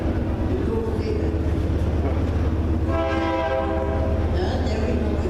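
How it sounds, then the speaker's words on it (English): Train rolling past with a steady low rumble throughout, its horn sounding in sustained blasts partway through, fairly distant and continuous. "There we go again. Must be the train."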